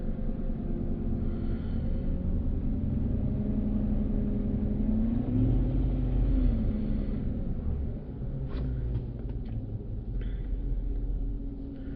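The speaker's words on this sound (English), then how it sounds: "I'm going to rev it up just a little bit." An engine revved lightly in a car, a steady low rumble with a gentle rise and fall in pitch, continuous and fairly loud throughout with no one talking.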